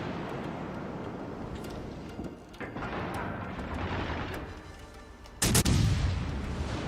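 Enemy naval artillery fire in the World of Warships game, a dull rumbling bed of distant gun booms with a sharper, louder blast near the end, heard without any speech.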